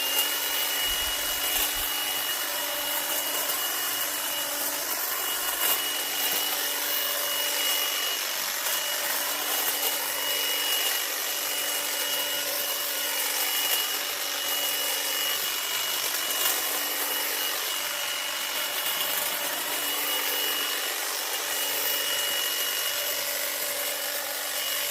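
A powered hedge trimmer cuts back a garden hedge, giving a steady, loud buzzing whine that runs without a break and stays close the whole time, with no talking over it.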